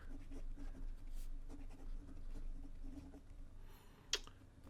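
Koh-I-Noor Artpen flex fountain pen writing on Rhodia paper: soft, close, continuous scratching of the nib in short strokes, faint and steady, with one brief sharper tick near the end.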